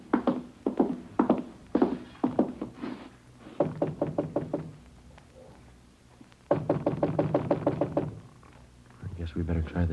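Sharp knocks on apartment door number 16 come in quick clusters early on, close and loud, followed by voices talking in the room.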